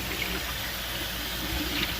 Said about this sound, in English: I can wash my hands, right?